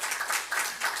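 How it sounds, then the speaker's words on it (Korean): Congregation clapping at a church's tenth-anniversary worship service, heard as short, faint bursts of hand claps in about three pulses. "하나님께 감사함으로 먼저 박수로 영광 돌리기 원합니다"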